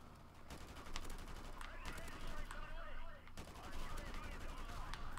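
Rapid bursts of automatic gunfire in Modern Warfare Remastered, a first-person shooter, crackle in repeated volleys with echoing shots, steady and fairly loud, mixed with game noise.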